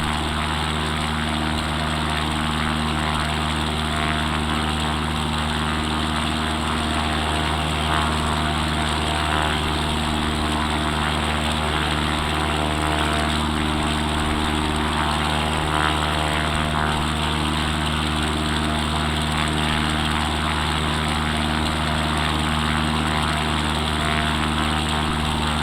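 Propeller engine drone heard from inside an X Cub light airplane cruising along the Monterey Bay shoreline, a loud, constant, steady hum that fills the whole stretch.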